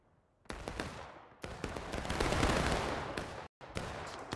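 Volleys of musket fire in the Civil War-era multiplayer game War of Rights, loud overlapping shots cracking and rolling in several bursts, with a sharp cut near the end before more firing.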